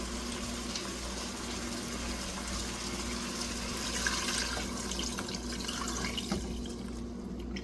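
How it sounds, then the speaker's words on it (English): Chicken broth poured into a pot of chicken for empanada filling, a steady liquid wash with faint trickling and splashing throughout, fairly quiet and continuous with no talking. "we're going to pour in the chicken broth"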